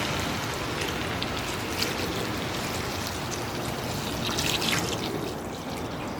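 Water pours steadily into a pot of duck curry, a continuous close rushing splash that holds its level for several seconds.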